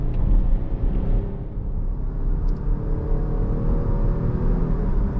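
A 2020 Jeep Grand Cherokee Summit with a V6 accelerating, heard from inside the cabin: a steady low engine rumble and road roar that holds loud and even, with only slight shifts in pitch as it pulls.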